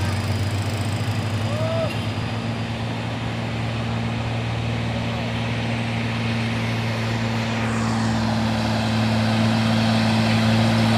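Two Hino trucks overtake on a road, their heavy diesel engines droning steadily with a rising roar toward the end as they draw nearer.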